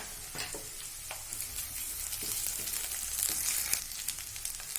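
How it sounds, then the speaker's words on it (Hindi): Ginger and garlic frying in a pan for a choulai greens gravy, a quiet steady sizzle with scraping stirs that grows slightly louder, no voices. "अदरक लहसुन डालेंगे हम और इसे भून लेंगे।"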